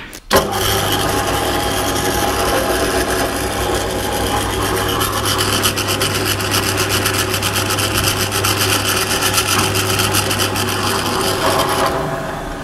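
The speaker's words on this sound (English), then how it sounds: "I'm just going to drill a small hole in the centre of it." A steady, continuous mechanical grinding whine of a drill boring a small hole in a silver cup shape runs for about twelve seconds, loud and close, with a constant low hum underneath, then cuts off abruptly.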